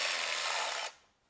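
A ratchet spins out bolts on a ZF 6HP transmission from a BMW X5, giving a loud, fast clicking whir close up for almost a second before it stops abruptly.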